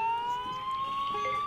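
A human voice imitating an ambulance siren holds a single sustained wailing tone that slowly rises in pitch, heard alone and fairly clear throughout.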